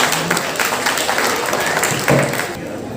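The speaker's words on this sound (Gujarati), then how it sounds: "આપણે તાળીઓ જોરદાર વગાડીએ બધા માટે" Audience applause at a Brahmin community award ceremony in Navi Mumbai, a steady wash of many hands clapping in a hall, fairly loud and continuous.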